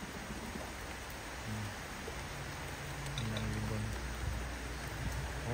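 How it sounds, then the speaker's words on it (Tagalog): Steady rain falling and growing heavier outdoors near young racing pigeons and breeders, a dense continuous hiss that swells slightly toward the end, with faint muffled voices underneath. "rinig nyo naman yung ulan, lumalakas na"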